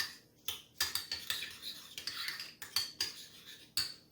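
Garlic and dried onion mixed in a bowl for spinach dip, a spoon clattering and scraping against the bowl in a rapid run of irregular clinks, close and alone.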